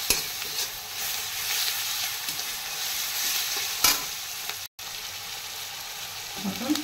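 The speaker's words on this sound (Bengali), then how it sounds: "আমি 4 চামচের 1 চামচ মতন রসুন পেস্ট দিয়ে দিলাম। তারপরে তেলের সঙ্গে ভালো করে নেড়ে নেব।" Chicken and garlic paste fry in hot oil and are stirred, giving a loud, continuous sizzle with scraping sweeps and a short break near the end.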